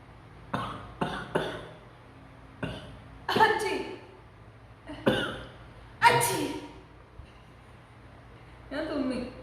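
A person sneezing and coughing repeatedly, about eight separate close, loud bursts spaced irregularly with short quiet gaps between them.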